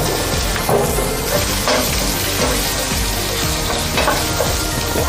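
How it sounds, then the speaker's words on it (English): Beef browns in a hot pan for a wet fry, a loud, dense sizzle running throughout, with repeated scraping and clattering as the meat is stirred. "we are going to stir them as we allow the meat to brown"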